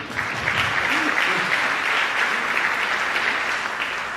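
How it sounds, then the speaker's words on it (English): Applause from an audience during a talk about growing up in Gaza, a continuous crowd clapping at moderate loudness for the whole stretch, with a faint voice briefly audible under it early on. "so let me clap for you"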